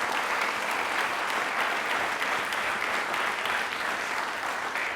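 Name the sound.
studio audience applause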